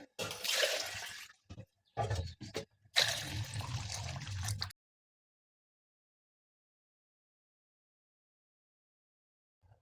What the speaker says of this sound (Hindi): 2 किलो पानी डालेंगे।